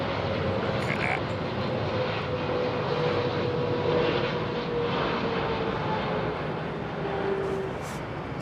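An airliner arriving on a windy day at London Heathrow Airport, its engine roar steady and fairly loud across the whole span, with people talking over it.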